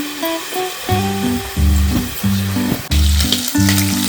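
Prawns frying in a pan, a continuous loud sizzle heard close up with a brief clatter partway through, under background music.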